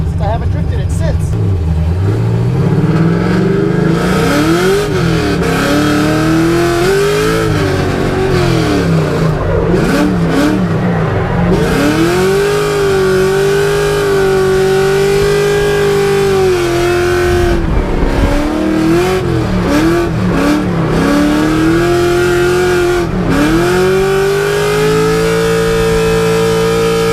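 An LS3-swapped Nissan 240SX S13 drift car revs hard and drifts on a private track day, its V8 climbing and falling in repeated sweeps with bursts of tire squeal, loud and close throughout, with voices talking over it.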